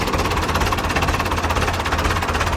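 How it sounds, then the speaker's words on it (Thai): A Ford 6600 tractor diesel engine runs loud and close, a steady low rumbling idle with rapid knocking pulses and vibration. "เดี๋ยวสตาร์ตตั้งเสียงนะครับ นะสตาร์ตติดง่ายนะครับ"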